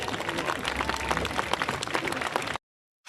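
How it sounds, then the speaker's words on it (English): Dense applause from a high school homecoming crowd cheering the king and queen, fairly steady clapping for over two seconds before cutting off abruptly. "Let's hear one more round of applause for the homecoming king and queen"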